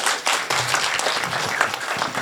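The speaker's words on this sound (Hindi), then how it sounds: "7-8 लोगों ने ताली बजाई है" Light applause from a small part of the audience at a comic poetry gathering, a thin scattering of claps with a few sharper individual hits, fairly soft throughout.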